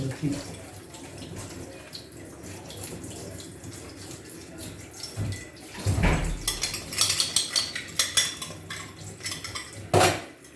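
A plate being wiped clean in a home kitchen, with dishes and cutlery clattering and clinking in close, irregular bursts that grow busier toward the end, over a low background hum.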